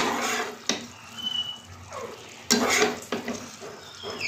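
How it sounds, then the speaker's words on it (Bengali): Turkey chicken kosha is stirred and fried in a pan, a spatula scraping and clanking against the metal in sharp strokes over a steady sizzle, close by and with no voices. "এবার ভালো করে কষাতে হবে"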